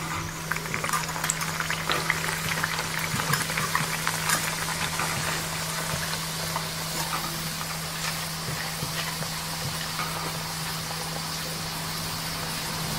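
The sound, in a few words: rice flour nippattu snacks deep-frying in hot oil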